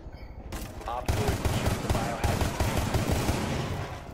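Rapid gunfire in the tactical shooter Rainbow Six Siege, bursts of shots starting abruptly after a quiet moment and continuing loud and close, with players talking over the shooting.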